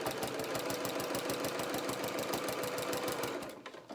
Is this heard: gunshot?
no